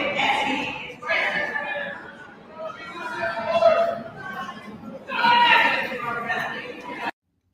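A crowd at a political rally shouts and cheers in surging waves, voices layered and echoing, with a louder swell near the end before it cuts off abruptly.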